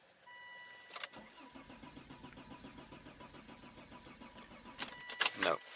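A Volvo car engine cranks repeatedly with a fast rhythmic churning that never catches, loud and close, ending in a brief louder burst; a voice is faintly present.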